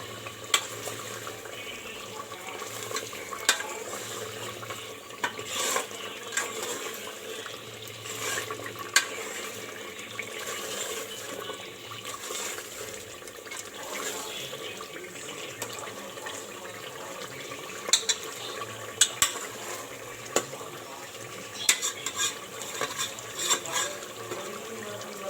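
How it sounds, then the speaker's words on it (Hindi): Beef pasande gravy being stir-fried in a pan, a soft, steady wet sizzle and bubbling with intermittent clinks and scrapes of a stirring spoon against the pan, close and fairly quiet throughout. "ज़रा सी इसकी भुनाई हो जाए"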